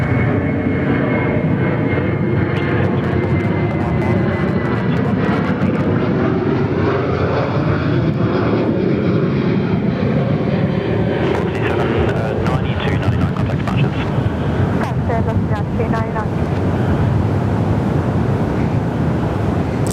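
Aircraft at Perth Airport make a steady, loud engine roar that swells and shifts in pitch across the whole stretch, with wind buffeting the microphone and occasional voices and radio chatter underneath.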